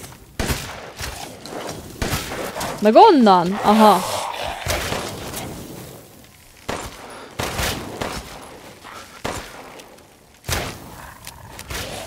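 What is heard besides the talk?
gunfire from an enemy in the video game Resident Evil 8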